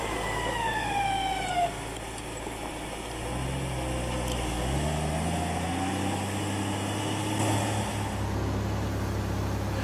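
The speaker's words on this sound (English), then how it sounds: "Turn the grader around for a pass down the other side of the road." A road grader turning around on an unpaved road, its diesel engine droning steadily with pitch shifting as it slows and changes speed, close and continuous, no talk.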